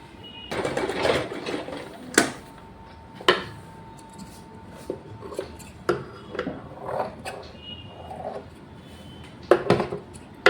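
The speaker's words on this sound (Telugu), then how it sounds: "దీనిపైన క్లాత్ను పెట్టి ఒక స్టిచ్ వేసుకోవాలి." Sewing machine stitching cloth for a long frock coat, short bursts of mechanical clatter separated by brief pauses, close and moderately loud with sharp clicks between runs.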